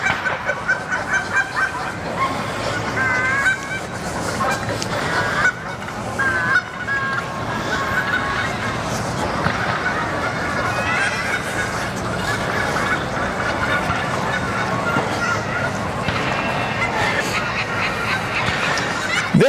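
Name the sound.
geese honking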